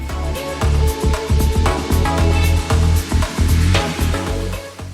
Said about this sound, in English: So to fade up to the 1 guard